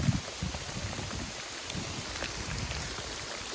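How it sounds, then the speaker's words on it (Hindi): Rain falls outdoors at Ranthambore fort, giving a steady, even patter and hiss of drops on stone and surfaces, moderately loud and close, with no voices. "बारिश हो रखी है, बार बार"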